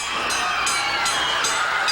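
A 1983 Southwest Championship Wrestling arena crowd stands, yelling and cheering in a steady, dense roar that holds loud throughout, with no clear single voice rising above the mass.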